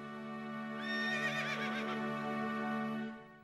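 A horse whinnies at a stud stable housing Arabian Egyptian horses, one drawn-out neigh rising and wavering before fading, heard at moderate distance over a steady background hum.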